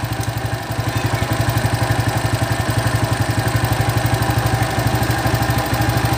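A Honda Supra motorcycle with an AC charging system runs close by, its engine idling in a fast, even pulsing rhythm with light mechanical clatter, alone and steady throughout.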